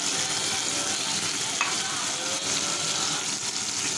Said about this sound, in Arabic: هيبتدي البدنجان كده يتحمر من كل جانب